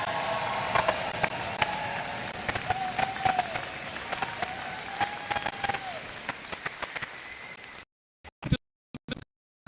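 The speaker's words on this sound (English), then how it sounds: "A round of applause." A town hall audience in Newport, Oregon applauds steadily for about eight seconds, a dense, even patter of many hands that cuts off abruptly, followed by a few scattered loud bumps.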